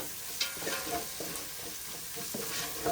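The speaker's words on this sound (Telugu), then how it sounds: "ఇందులోనే పసుపు వేసుకోవాలి అంతా ఒకసారి కలుపుకొని" Turmeric is stirred into paneer pulao in a frying pan, a soft close sizzle with light rhythmic scraping strokes from the spoon, fairly quiet and without talk.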